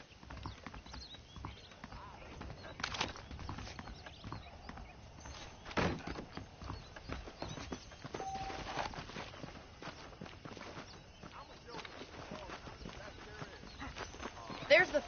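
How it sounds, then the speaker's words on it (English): Horse hooves clip-clop in the Red Dead Redemption video game, a quiet, uneven walking rhythm with scattered thuds, while voices talk faintly over it. "The horses are saddled up over here."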